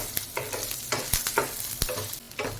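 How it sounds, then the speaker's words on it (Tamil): Urad dal, Kashmiri chillies and spices sizzle in hot oil while being stirred for mango chutney, with repeated sharp scrapes of a spoon against the pan over a steady crackle. "இதையும் வதக்கி விட்டுக்கலாம்"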